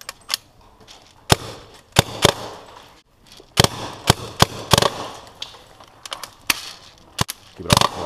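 A full-auto paintball shotgun is test fired outdoors at a paintball field: sharp, close pops in irregular bursts and rapid strings over a rustling background.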